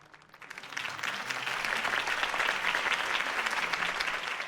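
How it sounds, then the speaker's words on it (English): Crowd applause after a campaign speech, swelling in within the first half second into a steady, loud wash of many hands clapping that holds to the end. "could have heard that applause"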